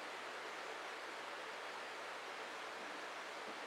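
Steady, dense rushing of running water, even and continuous with no voices.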